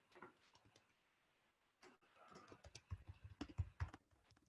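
Close, faint keystrokes on a computer keyboard, a few scattered taps followed by a quicker run of clicks toward the end, with no one talking.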